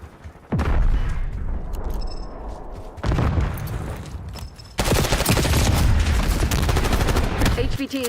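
Loud, dense gunfire fills a Black Ops 6 match, with rapid automatic bursts and heavy booms running almost continuously, including a sharp onset near the start and an even thicker barrage in the final seconds.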